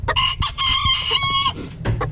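A rooster crows loudly and close by in a farmyard, giving a harmonic call that breaks into clipped syllables, with a few clucks near the end.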